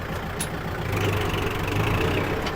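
A Kubota MU4902 tractor fitted with a front blade and six-disc plough runs its engine steadily in reverse gear, giving a continuous mid-low drone at close range with no voices.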